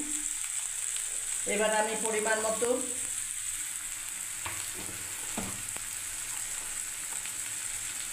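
Tomatoes and coriander leaves fry in a pan with a steady close sizzle, broken by a few sharp clicks of a utensil against the pan, while someone briefly speaks.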